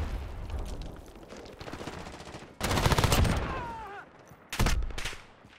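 Rapid automatic gunfire in the video game Modern Warfare, loud bursts of close shots in two volleys with a brief lull between, over a dense game soundscape.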